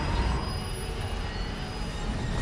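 A train in the video game Far Cry New Dawn gives off a loud, continuous rumble of rolling wheels on rails, with a thin high squeal running steadily on top.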